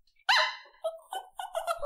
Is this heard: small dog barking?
yes